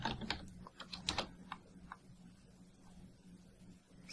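Faint computer keyboard typing at a desk, a short burst of quick clicky keystrokes followed by a few sparse taps, heard close and alone over a low background hum.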